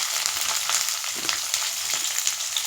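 Onion, green chilli and curry leaves frying in hot oil for a cabbage and moong dal curry, a loud, dense, continuous crackling sizzle close by.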